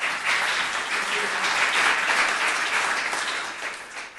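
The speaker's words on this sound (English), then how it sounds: "So big round of applause for Agilysys," Sustained applause from a conference audience in a room, steady and dense throughout, with a faint voice underneath.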